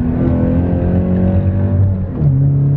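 A low-slung sports car's engine hums steadily while driving, a loud, close, deep drone with a brief gear shift or throttle change near the end and no talking.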